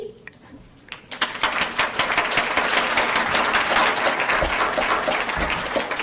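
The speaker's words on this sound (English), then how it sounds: "I'd just like to give a round of applause to the two student organizations sponsoring us here today" An audience at a student-sponsored debate breaks into a round of applause, starting abruptly after a quiet second and swelling into dense, sustained clapping that fills the room.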